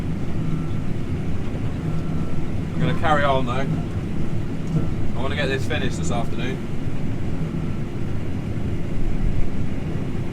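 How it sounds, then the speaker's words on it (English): A steady low mechanical drone of a combine harvester cutting oats in light rain runs throughout, with someone speaking briefly over it. "You can probably hear the combine, it's getting a bit chewy."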